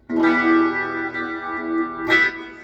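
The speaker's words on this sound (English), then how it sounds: "I have some reverb, I have some chorus on here, and you're gonna hear this." An electric guitar rings out sustained chords washed in shimmering chorus and reverb, then a second brighter strum near the end.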